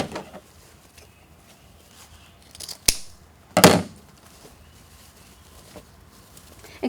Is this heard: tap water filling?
no